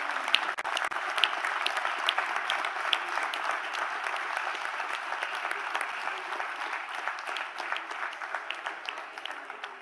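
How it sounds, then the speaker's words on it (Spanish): Sustained applause fills a special session of Venezuela's National Assembly, a dense steady wash of clapping from many hands that holds at an even level for about ten seconds, with no talk over it. "Omar Barbosa no aplaudió esto último."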